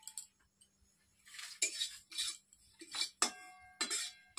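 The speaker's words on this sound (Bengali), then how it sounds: "এটাকে কড়াইয়ে দিয়ে একটু নাড়াচাড়া করে নেবো শুকনো কড়াইয়ে।" Sun-dried chopped fenugreek leaves are tossed in a dry karahi, giving a series of close, light metallic scrapes and clinks of the spatula against the wok in short, irregular bursts over near silence.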